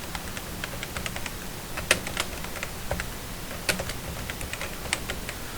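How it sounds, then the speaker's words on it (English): Steady clicking of keys on a computer keyboard as text is typed, close and fairly quiet, with irregular taps and a few louder keystrokes throughout. "So we'll get started now and type in"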